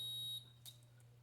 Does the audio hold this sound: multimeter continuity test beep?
yes